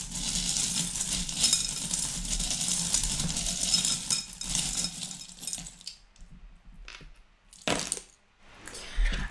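Small metal divination charms are shaken and tossed onto tarot-style cards, a close jangling clatter of light metal pieces, then a few scattered clinks and rattles as they settle.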